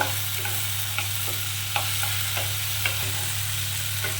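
Chopped tomato frying in a pan with onion, garlic, ginger and green chilli, a steady sizzle under a low hum, with a few light spoon scrapes every second or so.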